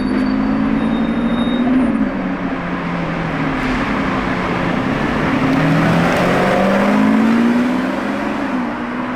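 A white Lamborghini Urus SE passes outside the Lamborghini factory, its engine a loud, close rumble rising and falling as it drives by, with no talk over it.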